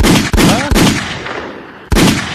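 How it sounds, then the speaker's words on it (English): Loud gunshot sound effects, three sharp bursts with a short gap before the last, the first two close together and each decaying quickly, with no talking over them. "Hit my gunshot."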